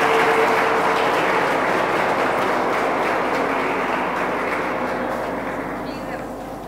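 Continuous audience clapping at an institute's stage function, a dense even patter that slowly fades toward the end.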